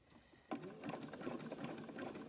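A Baby Lock sewing machine stitches through thick fabric-wrapped rope, starting abruptly after a short quiet lead-in and then running in a steady, close, rapid mechanical whir with fine repeated needle clicks.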